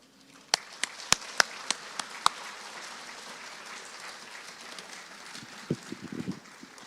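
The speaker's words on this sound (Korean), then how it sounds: "강사 목사님 나오실 때 큰 박수로 환영해 주시기 바랍니다" Applause from a church congregation greeting a guest pastor at a revival service: a few sharp claps first, then a steady wash of clapping through a hall, with a short burst of louder nearby claps near the end.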